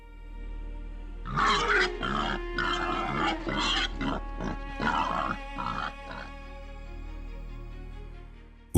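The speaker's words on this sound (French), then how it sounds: "un jeune marcassin effrayé est poussé par un adulte au moment d'une charge" Wild boars grunt in a dense, overlapping burst during a charge in the Nigerian wild, a young piglet among them, the grunts loud and close for about five seconds before falling to quiet.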